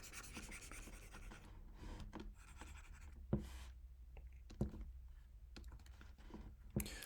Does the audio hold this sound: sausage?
no